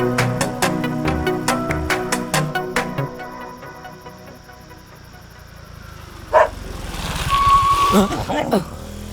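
Dogs bark in a rapid, regular run of sharp yaps close by, then fade into vehicle engine noise and a few scattered sounds, with voices present.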